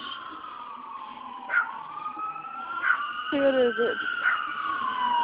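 An ambulance siren sweeps up and down as it passes nearby, with a dog barking and a person briefly speaking over it.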